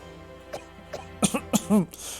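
Several dry coughs and a throat clear in quick succession from a character in The Great Ace Attorney Adventures, close up over a faint steady background hum.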